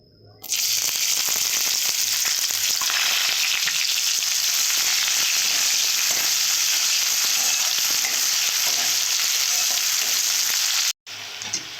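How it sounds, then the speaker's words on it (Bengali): Loud, continuous sizzling of onions frying in a pan, with stirring scrapes throughout before it cuts off abruptly near the end. "মাছ ভাজা কড়াতে পেঁয়াজ দেব"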